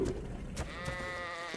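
Sheep in the video game ARK on the Ragnarok map, a single drawn-out wavering bleat following a couple of soft knocks, close and clear, with no talking.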